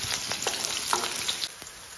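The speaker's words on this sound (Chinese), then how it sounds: "锅中油少许底油，开小火将葱姜蒜爆香" Scallion, ginger and garlic sizzle in a little oil over low heat, a steady close crackling hiss with small pops scattered throughout and no talking.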